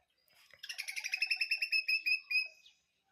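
A squirrel calls in a rapid, evenly spaced series of about a dozen sharp, high chirps. They are close and clear, last around two seconds and stand alone against silence.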